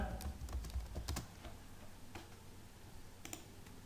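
Typing on a computer keyboard while entering C program code, a faint scatter of soft key clicks that are denser at the start, then a few isolated taps over a quiet background.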